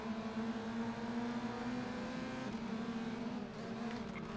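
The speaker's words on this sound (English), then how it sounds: "This car sounds so cool." A racing car engine in the video game Race Driver: GRID holds a steady, buzzing drone at a constant pitch, fairly quiet and continuous with no voices.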